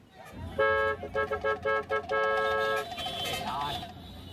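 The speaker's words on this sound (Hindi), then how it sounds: "ये जो तुम धड़ाधड़ हॉर्न बजा रहे हो" A car horn honks repeatedly in quick short blasts, then holds one long blast, loud and close amid road noise, in a Hindi-dubbed South Indian film scene.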